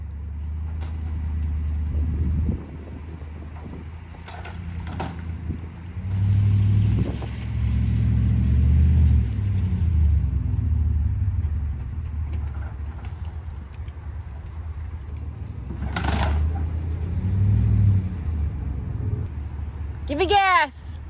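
A vehicle engine revs and rumbles while pulling down an old barn, with surges of acceleration rising and falling; people talk and shout over the engine noise, with a sharp creak near the end.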